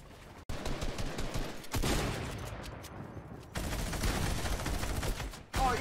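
Rapid gunfire in a fast-paced online shooter building game, dense sustained bursts of shots with brief gaps, loud and close, with faint voices underneath.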